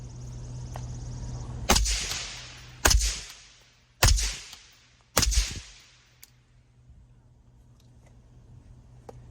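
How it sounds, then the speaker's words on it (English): Four loud, sharp rifle shots fired through an AAC Ranger 5 suppressor, evenly spaced about a second apart, each with a short reverberant tail, followed by quiet outdoor ambience. "Let's go ahead and put the suppressor on it and see what it sounds like now. Alright guys, let's go ahead and fire a few shots through her."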